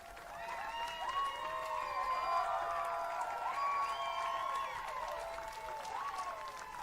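Applause and cheering from the crowd at the Republican National Convention, a steady dense wash of clapping and calls with rising and falling tonal voices, moderately distant and fairly even throughout.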